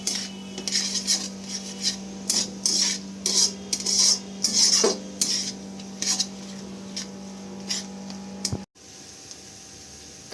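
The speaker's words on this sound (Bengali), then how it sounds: "তারপর সব কিছু ভালো করে একসাথে মিশিয়ে নেব আদা রসুনের কাঁচা গন্ধটা না যাওয়া অবধি ভালো করে আমাদের ভেজে নিতে হবে" A metal spatula stirs ginger garlic paste frying in a pan, making irregular, rhythmic scraping strokes over a low steady hum until the stirring stops near the end.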